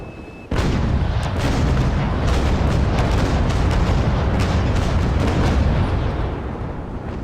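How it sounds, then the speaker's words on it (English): Cannon broadside from a sailing warship, the USS Constitution in the naval combat game Naval Action, erupts as a sustained rolling barrage of loud booms and crackling shots lasting several seconds, dense and continuous. "there's definitely no harm in giving opponent a good broadside"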